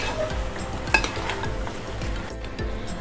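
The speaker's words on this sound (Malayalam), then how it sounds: "നല്ലവണ്ണം ഒന്ന് ഇളക്കി കൊടുക്കണം" A spoon stirring koori fish head and tapioca curry in a pot, with repeated scraping and clinking against the vessel over a soft simmering bubble, close and steady for a few seconds.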